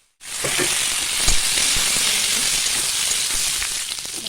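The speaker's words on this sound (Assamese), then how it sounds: "এতিয়া মই ইয়াত দি দিম বইল কৰি থোৱা কচু আৰু আলুখিনি।" Boiled taro and potatoes tipped into a hot frying pan with ginger and garlic, setting off a loud, steady sizzle and frying hiss that runs close and continuous, with a few soft stirring knocks.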